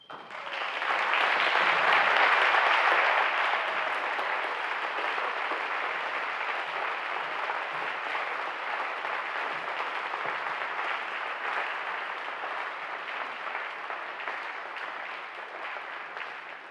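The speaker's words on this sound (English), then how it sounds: "Could the class of 2023 please stand and join me in showing our appreciation and love for CFA faculty in a round of applause." Sustained audience applause at a 2023 senior salute ceremony, as the graduating class stands to honor CFA faculty; a dense, steady wash of clapping swells early and holds for over fifteen seconds.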